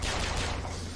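A short, dense burst of gunfire from the shooter game Bioshock Infinite, loud rapid cracks blending into rumbling combat noise with no clear gaps.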